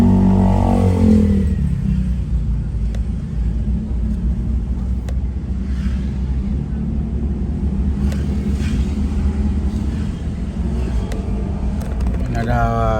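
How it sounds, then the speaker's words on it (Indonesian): Busy street traffic in Makassar, with a continuous low rumble of passing cars and motorbikes and occasional engine revving, while a voice speaks briefly at the start. "Di sini juga lumayan padat kendaraan."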